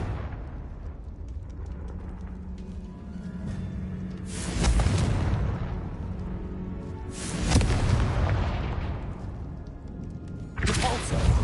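Confringo blasting-spell explosions in the video game Hogwarts Legacy, three heavy booming bursts with crackling debris and rumbling tails spaced several seconds apart over a low continuous game rumble, loud and close.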